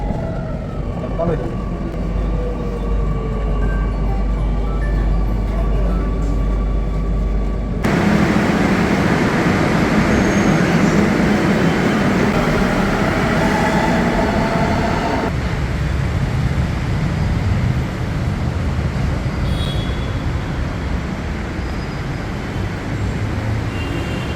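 A metro train arrives and runs along a station platform with a loud, continuous roar and rumble and traffic-like noise, shifting in texture partway through, while people talk in the background.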